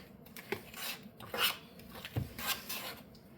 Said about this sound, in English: So then it tells me to mix that with a fork.